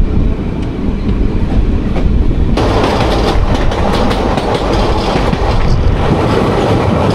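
A passenger train heard from inside the carriage on the run from Howrah toward Suri near Pandabeswar gives a loud, steady rumble with rhythmic clickety-clack of wheels, swelling louder and brighter partway through, with no voices.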